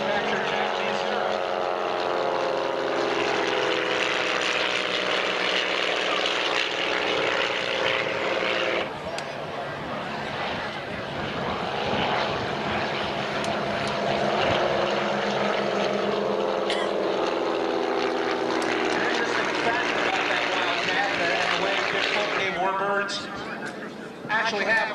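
Propeller warbirds fly in tight formation at an air show, a steady roaring drone of piston engines that swells and shifts over about twenty-five seconds, loud and continuous, with wind noise and faint crowd sounds beneath.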